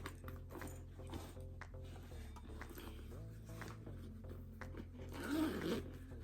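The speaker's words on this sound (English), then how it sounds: "And then right here is an actual zipper pocket." A zipper on a pocket of a subscription-box item is slid open or closed, giving a soft, close scratchy zip near the end over faint background rustle, with a voice talking quietly.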